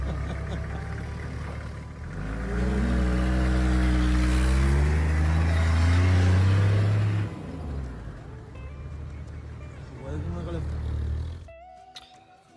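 A car engine with a bad exhaust revs with a rough, rising and falling drone that fades out, then returns briefly before cutting off.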